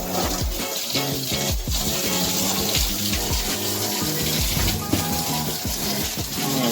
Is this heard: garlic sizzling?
no